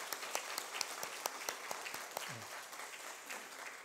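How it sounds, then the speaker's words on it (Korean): A church congregation applauds to welcome a visiting missionary, a steady patter of many hands clapping at moderate distance, filling the room evenly throughout. "박수로 환영하겠습니다."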